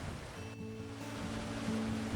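Rough sea surf breaks around haenyeo women divers working off Samdal-ri on Jeju, a constant, dense wash of water noise with no voices.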